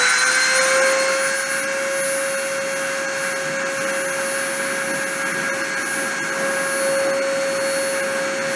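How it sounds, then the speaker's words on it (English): Spindle running at the start of a deposition process: a loud, steady, close whine with a strong sustained tone and overtones, holding constant throughout with no speech. "I'm going to turn the spindle on and go ahead and start the deposition"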